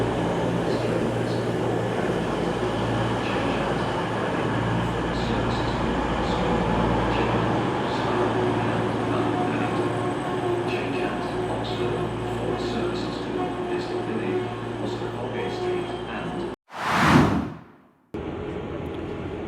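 A train runs along the rails with a steady low rumble and rolling hum inside the carriage, ending in a brief loud whoosh near the end, with a voice talking faintly over it.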